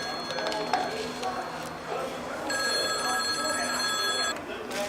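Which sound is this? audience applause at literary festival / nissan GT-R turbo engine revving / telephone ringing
telephone ringing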